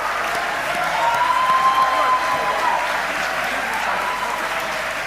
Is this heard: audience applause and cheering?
yes